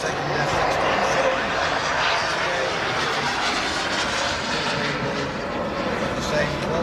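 Second F-16 fighter jet taking off at an airshow, a loud, steady broadband jet roar holding close and constant throughout, with a voice talking over it.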